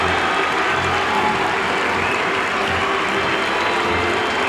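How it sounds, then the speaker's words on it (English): Baseball crowd at Wrigley Field in Chicago applauding and cheering to welcome a celebrity before a ceremonial first pitch, a loud, continuous roar of clapping and cheering from a large stadium audience. "Crowd giving him a great welcome."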